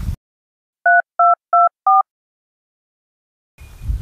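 Four short touch-tone telephone keypad beeps dialed in a steady rhythm, clear and close in an otherwise silent pause, with faint room noise at the start and end in a village setting.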